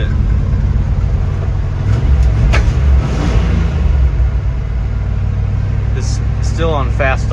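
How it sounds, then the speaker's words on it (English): A 1970 Ford Maverick engine on fast idle outdoors in the snow gives a loud, steady low rumble throughout. Someone talks over it. "It's still on fast idle."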